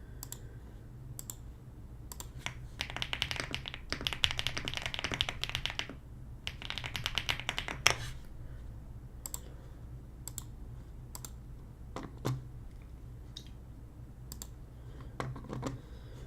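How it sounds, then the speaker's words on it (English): Typing on a Rainy 75 mechanical keyboard: bursts of rapid, crisp key clicks in dense runs, broken by pauses and single taps, close and clear with no talking. "today's stream I'm actually using a new keyboard. I'm using a Rainy 75."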